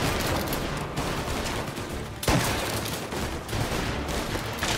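Dense, continuous gunfire in the video game Mafia: Definitive Edition, with rapid overlapping shots and one sharper blast midway, loud and close throughout.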